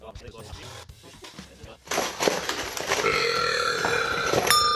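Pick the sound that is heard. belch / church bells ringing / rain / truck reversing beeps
belch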